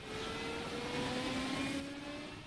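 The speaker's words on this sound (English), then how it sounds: "It's the engine start sounds so good." Helicopter turbine spooling up during engine start in a firefighting aerial operations video game, a steady whine with rising tonal pitch sustained loudly throughout.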